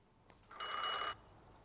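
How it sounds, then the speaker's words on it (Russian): A brief old-fashioned telephone bell rings once in The Thaumaturge video game, a bright metallic trill lasting about half a second over quiet background. "Телефон."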